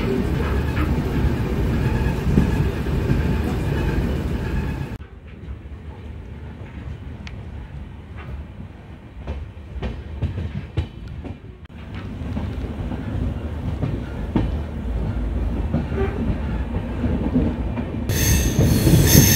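A passenger train on the Tirunelveli to Mettupalayam route runs along the rails with steady wheel roar and squealing, loud at first, dipping quieter midway, then building again amid wind buffeting the microphone.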